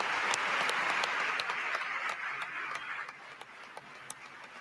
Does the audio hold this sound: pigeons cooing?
no